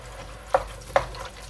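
Thick homemade pumpkin puree being stirred for pumpkin pie, two soft, close scrapes about half a second apart against a quiet kitchen background.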